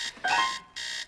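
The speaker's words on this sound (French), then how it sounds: "Bob, le réveil. Oh, arrête cette sonnerie, s'il te plaît." A cartoon alarm clock rings in two loud, shrill electronic bursts, the second after a brief gap, with no talking over it.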